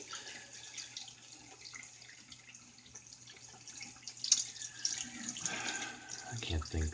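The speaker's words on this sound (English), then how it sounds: "let me rinse the brush out" A shaving brush is rinsed under a running tap at a sink, water splashing steadily at a moderate level with a brief louder burst near the end, and no talking.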